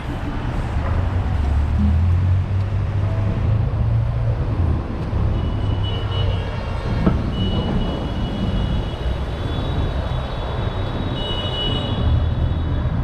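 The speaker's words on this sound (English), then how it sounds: "Sounds like there's a lot of traffic and honking going on" Steady city traffic rumble in Long Island City, Queens, New York, with passing vehicles and a low engine drone throughout; a few faint horn-like tones rise near the middle.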